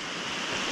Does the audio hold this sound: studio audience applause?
no